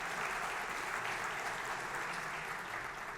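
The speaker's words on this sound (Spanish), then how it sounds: "Después de los aplausos viene el problema." Church congregation applauding, a dense steady wash of clapping from a full room that holds evenly and fades slightly at the end.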